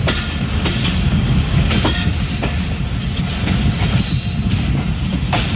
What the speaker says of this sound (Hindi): उम्मीद है कि हमारी ट्रेन स्पीड पकड़े आगे और टॉपो टॉप जाए